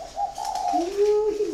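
Spotted dove cooing close by, a soft rising and falling series of mellow coos in one continuous phrase, with faint background noise.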